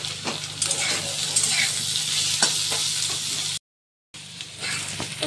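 Chopped garlic, ginger and onion fry together in a pan with a steady close sizzle and occasional stirring scrapes, broken by a short silent gap near the end.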